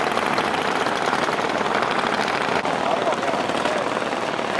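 A long-tail boat with its propeller shaft extending from the back runs its engine on a river, a loud, steady droning rumble that continues unbroken throughout.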